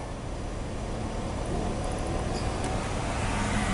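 A car engine with a misfire and hard-cranking trouble runs at idle, a steady, continuous close drone with no talk over it.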